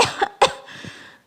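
A person coughs after sipping bitter pomegranate juice, giving two sharp, close coughs followed by a softer trailing cough before it falls quiet.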